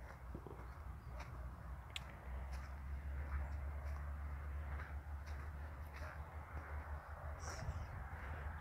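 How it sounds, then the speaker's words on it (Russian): Birds call outdoors, with a crow cawing a few times against a low background rumble and faint scattered chirps, fairly quiet overall. "Птицы поют."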